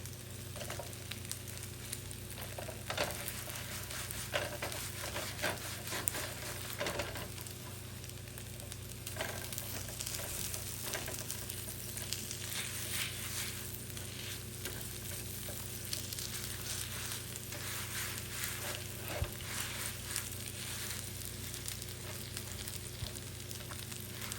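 A bagel fries in butter in a pan, giving a steady, close sizzle that runs continuously with occasional small pops and stirring sounds, with no talking.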